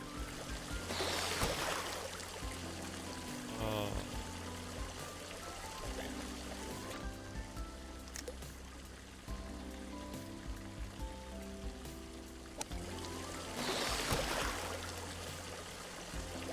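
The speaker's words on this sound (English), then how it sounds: "Because there's water flow, that's what causes it to stream." Flowing stream water in the golf video game Golf With Friends, a steady trickling, pouring wash running throughout beneath layered game music, with denser splashy bursts near the start and end.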